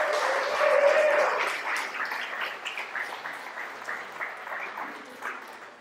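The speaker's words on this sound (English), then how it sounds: "Round of applause." Applause from an audience at a workshop rises and then settles into moderate, slightly distant clapping that tapers off over several seconds.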